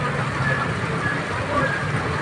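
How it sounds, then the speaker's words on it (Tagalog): Steady heavy rain pours over the Marikina River bank with a dense, constant hiss and no breaks, loud and enveloping. "Tuloy-tuloy pa rin ang pagbuhos ng ulan."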